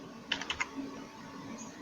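A few quick, soft keystrokes on a computer keyboard, three or four light taps clustered together, followed by a quiet room hum.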